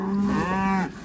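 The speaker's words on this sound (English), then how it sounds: "there's Mrs. Piper Doug's cow, Monty" A dairy cow on a farm lets out a single long, close moo that fades out near the end.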